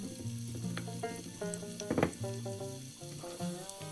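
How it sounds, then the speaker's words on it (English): Onions fry in olive oil in a large pan over medium-low heat, a steady soft sizzle with small crackles running throughout, close and alone. "at medium to low heat we're going to cook our onions until they're glossy"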